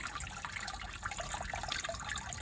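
Water from a rain barrel-fed garden water feature spills down a trough into a pot, a soft steady trickle and splash, faint and continuous with no voices.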